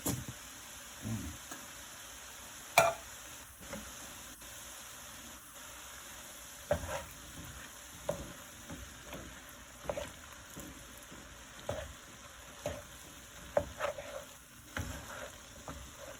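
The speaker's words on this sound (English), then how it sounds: "I'm gonna mix that refried beans in with that ground turkey" Ground turkey and refried beans being stirred together in a sizzling pan, a steady low fry under scattered scraping spoon strokes and soft clacks, with no talking.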